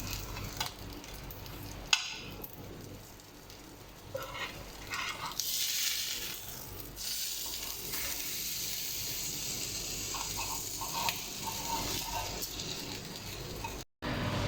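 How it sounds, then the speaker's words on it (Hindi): Chicken leg pieces frying on a tawa over a low flame, a steady soft sizzle with occasional light stirring and scraping, close and fairly quiet, no talking. "बिल्कुल लो फ्लेम पे हम इनको फ्राई कर रहे हैं।"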